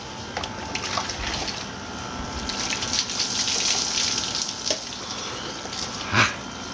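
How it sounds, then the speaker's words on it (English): Cold water pouring steadily from an outdoor tabo-style shower at a beach house under construction, a continuous close splashing gush with brief louder splashes near the end. "I love just taking an outdoor shower right here."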